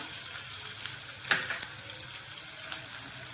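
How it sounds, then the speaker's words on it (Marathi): Onions sautéing with cumin seeds in a pan for an egg and spinach curry, a steady broad sizzle throughout with a few light stirring scrapes, moderately close and without any talking. "कांदा घालणार आहे भरपूर असा"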